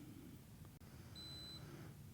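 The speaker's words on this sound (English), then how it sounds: "wait for the beeps" Camera flash strobes recycling after firing give a faint, thin electronic beep lasting under half a second over a steady low room hum, with no talking.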